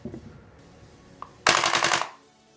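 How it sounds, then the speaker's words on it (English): An Uzi submachine gun fires a rapid automatic burst at roughly 600–750 rounds per minute, loud and dense for about half a second, after a single faint shot and low background rumble. "I'm going to try to get in rounds per minute on this gun."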